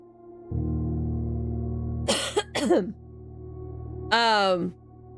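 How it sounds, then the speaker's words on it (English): A gamer with a lingering cough lets out two quick, close coughs, then a longer rough vocal burst, over a steady low hum in a quiet room. "Still have a residual cough, so I apologize in advance."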